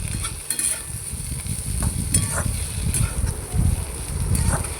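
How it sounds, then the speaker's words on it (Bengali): Vegetables are stirred with a metal spatula in a frying pan, giving soft scraping strokes over a low, continuous sizzle heard close by. "আবারও আমি ভালো করে খুন্তি দিয়ে নাড়িয়ে নিচ্ছি"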